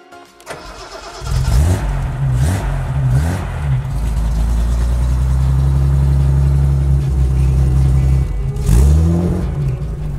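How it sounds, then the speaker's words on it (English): A 1974 Datsun 240Z fires up and its engine revs repeatedly, with sharp rising blips, then settles into a loud, steady mid-pitched drone before another rev near the end, close and clear with no talking. "I'm driving a 1974 Datsun 240Z."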